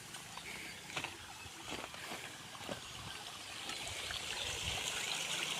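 Floodwater flows back along a stream during rain, a steady broad rushing wash with scattered faint splashes and knocks that grows slightly louder toward the end, with no talk.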